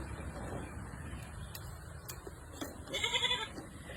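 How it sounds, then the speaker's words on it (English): Goats on a farm bleat in short bursts, including a young kid, with a louder cluster of calls near the end over steady outdoor background noise. "There's a little baby goat."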